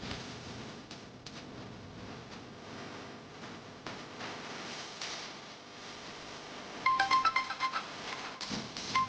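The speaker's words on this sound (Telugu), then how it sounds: "శివ వదినకి ఫోన్ చేశాను కానీ లిఫ్ట్ చేయట్లేదు వీర్రాజు." A phone rings unanswered on a call, the tone sounding quietly at first and then louder and clearer in repeated bursts toward the end.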